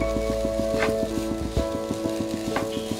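Shredded chicken being stirred into a bread cone samosa filling in a pan, with a soft steady sizzle under repeated scraping and tapping strokes of the spoon, close and even, no voices.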